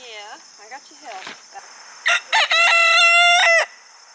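A backyard rooster crows one loud, clear, drawn-out call close by, preceded by softer hen clucks and murmurs in a quiet morning farmyard.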